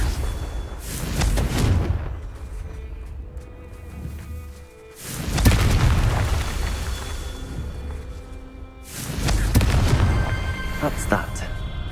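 Three loud, booming blasts from the Confringo spell in Hogwarts Legacy, spaced a few seconds apart, each with a sharp onset and a rumbling decay, with a voice speaking between them.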